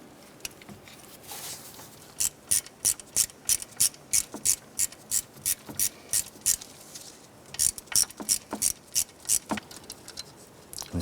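A ratchet tightens Torx screws on the fuel injector clamp of a 1994–2004 Chevy S10, steady rapid clicking in two bursts with a brief pause, close and clear, no talking.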